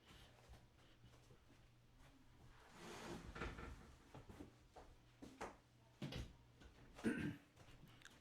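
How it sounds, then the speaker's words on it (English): An interior door is pushed shut at close range, a few soft bumps and scrapes building to a firm knock of the latch near the end, in a quiet room with no talking. "Sorry, I had to shut my door."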